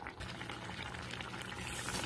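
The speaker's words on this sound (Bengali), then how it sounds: "এবার ফুটে উঠলে আমি ওপর দিয়ে দিয়ে দেবো কাসুরি মেথি" Bengali-style rajma masala bubbles in a pot, making a faint, continuous liquid burble and pouring-like churn with no speech.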